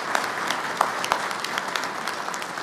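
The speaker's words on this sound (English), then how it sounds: "if we could just have a round of applause for our panel members here" Audience applause for panel members closing out a conference session on the Army National Guard, a steady wash of many hands clapping at moderate distance with a few sharper claps standing out, no voices.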